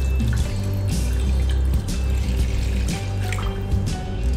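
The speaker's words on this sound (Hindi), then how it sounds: "तो मैं उसके लिए यहाँ पर लूंगा 2 कप पानी।" Two cups of water poured into a pan while making gurudwara-style kada prasad (atta halwa), a steady close splashing and trickling stream of liquid filling the vessel, continuous for several seconds with no talk.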